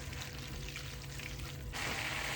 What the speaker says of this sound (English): I'm gonna take some pasta water, probably about a half a cup, and I'm gonna add it straight to my pasta